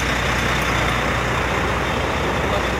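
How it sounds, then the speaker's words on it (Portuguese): A truck with a small trailer being lowered by its air suspension gives a loud, steady hiss of escaping air mixed with low vehicle rumble, continuous throughout at close range. "Abaixar o caminhão."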